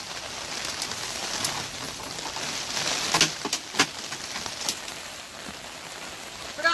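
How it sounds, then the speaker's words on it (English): Steady rain patters outdoors in a garden, a soft, even hiss with a few louder drops tapping nearby, and faint bird coos in the background. "Really starting to rain here."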